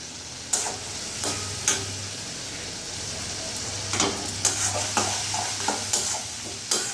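Masala for mutton curry fries in a pan over medium gas with a splash of water, sizzling continuously up close while a spoon scrapes through it in repeated, uneven stirs.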